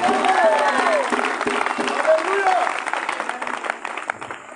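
A church congregation claps and cheers in a dense, steady wash of applause, with voices raised over it that fade slightly toward the end.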